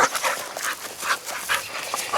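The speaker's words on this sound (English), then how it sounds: "You are one special dog." A dog whimpers and pants close by outdoors near a chicken coop, giving short, high, repeated whines in an irregular rhythm for about two seconds.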